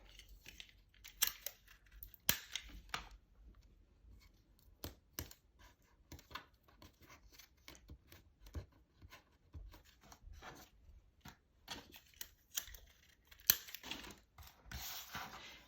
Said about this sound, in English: I'm going to tape the straw, which is the flower stem,